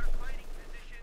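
Gunfire in the strategy game Company of Heroes 2 sounds as a short, dense burst of rapid shots, fairly loud and up close.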